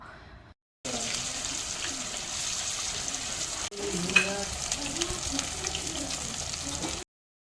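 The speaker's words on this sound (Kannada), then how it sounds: "ಸೊ ಇವಾಗ ಡೀಪ್ ಫ್ರೈ ಮಾಡ್ಕೊತಾ ಇದ್ದೀವಿ" Cauliflower pieces deep-frying in hot oil give a steady, close bubbling hiss that runs without a break, with a short dip partway through and no talking.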